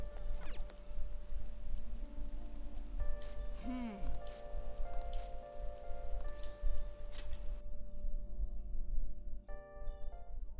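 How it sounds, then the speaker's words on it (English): Rain falling in the video game Persona 5 Royal, a steady soft patter under tonal in-game music and chimes, moderately faint. "It's rainy season."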